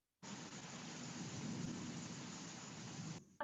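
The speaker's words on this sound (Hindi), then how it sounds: "ये बादल गरज रहे हैं यहाँ पर" Thunder rolls through heavy rain during an online class, a continuous low rumble layered with dense rain noise that starts abruptly and holds steady for about three seconds before cutting off.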